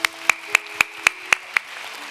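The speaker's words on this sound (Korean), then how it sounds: "승찬이 위해서도 박수하십시다." A church congregation claps in unison, seven crisp, evenly spaced claps in a quick steady rhythm, close and clear, with no talking between them.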